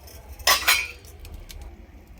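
A metal lid set over a pot of dal cooking on a wood-fired chulha, giving two quick loud metallic clanks close by, then quiet low background.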